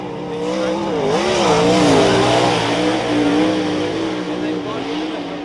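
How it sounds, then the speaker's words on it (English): A sprint car engine screams as it accelerates hard at a speedway race in Palmerston North, pitch climbing and wavering through gear changes, loud and continuous, with a commentator talking over it. "we get the green. And J.A. straight away on the loud pedal."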